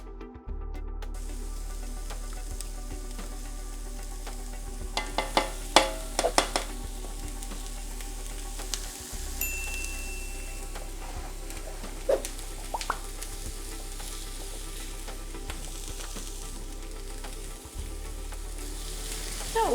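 Chicken pot pie filling being stirred with spices in a pan, a soft steady sizzle of frying with occasional scraping and clinking stir strokes, no talking.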